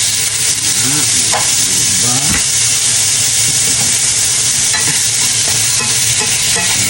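Garlic, onions and meat frying in a pan for pancit: a loud, continuous sizzle that fills the clip, with occasional scraping stirs cutting through and no talking.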